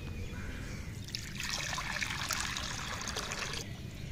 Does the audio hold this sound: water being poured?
yes